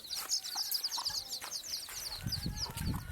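A hen with her chicks on a farm: rapid high peeping from the chicks throughout, with soft low clucks from the hen toward the end, fairly quiet and close.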